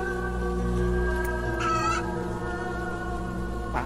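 A chicken gives a couple of short clucking calls over a loud, steady low drone, the calls brief and fairly close.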